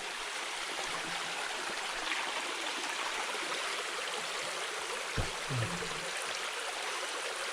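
A forest stream flows steadily nearby, a constant soft rush of water with no voices, broken by a couple of brief low thumps.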